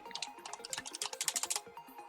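Typing on a computer keyboard set to Japanese: a quick, uneven flurry of close key clicks, quiet and alone, in short bursts.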